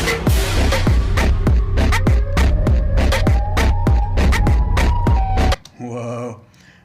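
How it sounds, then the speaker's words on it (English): Siren Head's wailing siren effect in a children's lesson cartoon: a loud, rising tone with rapid rhythmic pulses over a low hum for about five seconds, then a brief electronic warble as it cuts off. "It's Siren Head! He's coming!"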